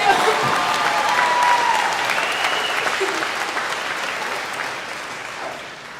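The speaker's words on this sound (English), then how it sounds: "Y'all can clap for that too." Steady, loud audience applause at a high school graduation ceremony, a dense crowd of clapping that holds for several seconds and slowly fades, with faint voices and cheers mixed in.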